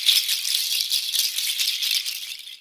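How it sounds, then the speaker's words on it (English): A handheld rattle made of shells shaken continuously, producing a bright, dense hissing clatter with rhythmic surges, close and fairly loud, no voices. "a lot of times I like to use a rattle"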